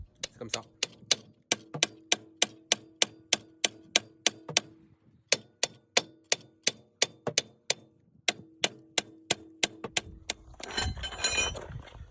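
Hammer blows freeing a driveshaft from the wheel hub of a Golf 4: a long run of sharp, ringing metallic strikes at a steady, fast pace with two short pauses, close and loud, ending in a louder clattering burst.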